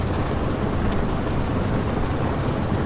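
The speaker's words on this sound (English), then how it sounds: "Oh, listen to those engines." Twin piston aircraft engines idle on the ground with the parking brake set, a steady, loud droning rumble with no break, close to the microphone and with no voices over it.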